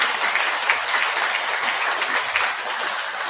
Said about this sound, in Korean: 이때 큰 박수가 좀 나와야 되지 않겠습니까?